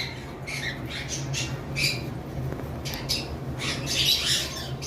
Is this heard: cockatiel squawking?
yes